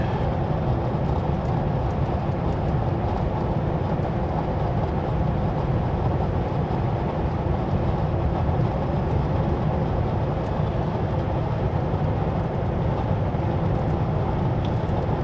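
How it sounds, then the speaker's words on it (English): A steady, continuous rumble of a very long mixed freight train with a single engine rolling along the tracks, a dense low roar that holds evenly throughout without letting up. "There is a very, very long train."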